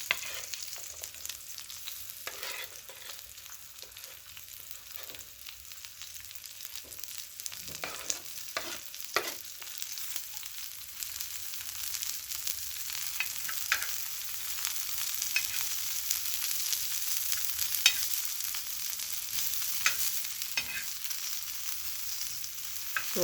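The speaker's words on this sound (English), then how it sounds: "So we fry our onion until they become tender." Onions fry in oil left over from cooking burger patties, giving a steady broadband sizzle with scattered stirring clicks and scrapes, close and moderately loud without any talk.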